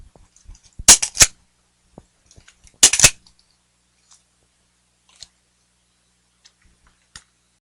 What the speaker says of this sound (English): So this is what your magazine reloads are going to look like.